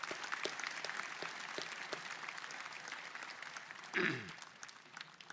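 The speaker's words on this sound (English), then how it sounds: "Another round of applause for Lindsay," Graduation ceremony audience applauds in a soft, distant, steady patter of many hands, briefly swelling with a louder burst near the end, with faint voices mixed in.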